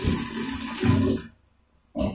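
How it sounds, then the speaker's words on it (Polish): Half a kettle of freshly boiled water, about 1.5 litres heated on a burner outdoors in a forest for homebrewed pine-shoot beer, pours in a steady splashing gush for just over a second, stops, then briefly resumes. "Wleję tak pół czajnika."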